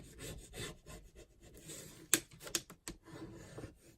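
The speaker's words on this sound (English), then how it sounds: "just burnishing that down" Paper being burnished down by hand while making a craft ephemera folder, a close, quiet rubbing with a few sharper scraping strokes in the middle, with no talking.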